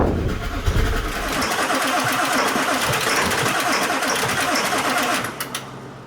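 A 7.3 Powerstroke diesel truck engine cranks loudly and steadily with a rapid rhythmic starter chug for several seconds, trying to catch, with brief faint voices near the end.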